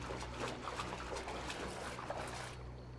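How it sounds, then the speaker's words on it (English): Splashing and trickling water as a character wades through water in the video game Dead Island, a steady wet churn that cuts off abruptly near the end. "I'm getting so random water sounds. Oh, it was because I was in the water"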